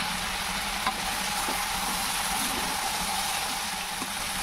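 A prawn dish with drumstick greens sizzles steadily as it is stirred in the pan, with a faint scrape or two over the constant frying hiss.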